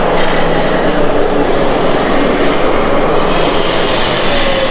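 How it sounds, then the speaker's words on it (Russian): A Belkommunmash tram rolls along a street in Minsk, giving a loud, continuous rumble of wheels on rail with steady broadband noise throughout and no one speaking. "А вот и желанный трамвай. Сейчас он поедет."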